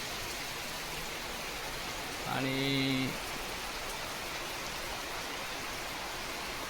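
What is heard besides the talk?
heavy monsoon rain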